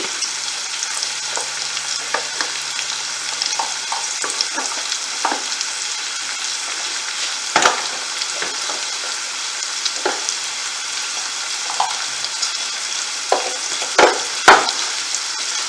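Mussels sizzle steadily in hot oil, Kerala roast style, with turmeric and spices added, while a spoon scrapes and stirs in scattered sharp clinks and knocks over the continuous frying hiss.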